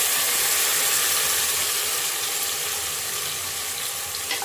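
Ground masala paste frying in an onion tempering for vegetable sambar, a steady close hiss and sizzle that holds evenly throughout, with a faint clink near the end and no talk.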